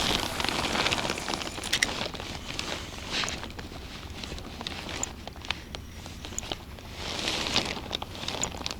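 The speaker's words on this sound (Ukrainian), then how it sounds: "моросить дощик." Light drizzle falls outdoors at a pond during a pike fishing trip, a faint, steady patter with scattered soft drops and ticks.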